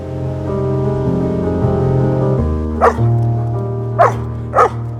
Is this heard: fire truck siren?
no